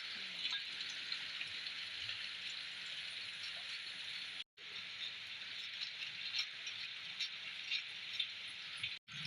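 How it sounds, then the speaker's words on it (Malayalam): Light rain hisses steadily, a soft, even patter of drizzle that continues throughout with a couple of brief dropouts. "ഇങ്ങനെ മൂടിക്കെട്ടി കാലാവസ്ഥ ഇങ്ങനെ ചാറ്റൽ മഴയല്ലേ"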